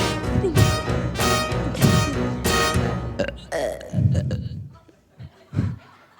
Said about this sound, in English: Oh, how I love to burp.